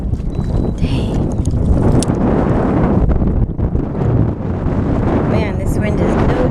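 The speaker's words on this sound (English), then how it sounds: "Man, this wind is no joke." Strong wind roars and buffets the microphone on Lake Hodges while kayaking, a loud, constant rushing gust with no clear talk over it.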